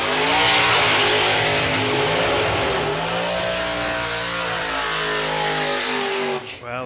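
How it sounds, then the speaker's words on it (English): Drag racing car accelerating hard down the strip at a VW drag event, a loud, sustained engine roar rising in pitch for several seconds before cutting off abruptly, with no talk. "those noisy cars just keep on coming"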